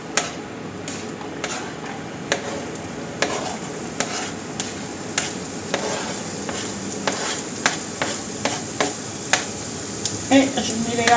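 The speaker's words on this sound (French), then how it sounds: "Et je mets les lardons en même temps. Et on va faire revenir ça quelques minutes." Sliced onion and bacon lardons fry in a pan with a steady sizzle while a utensil stirs and scrapes, adding irregular clicks and taps throughout.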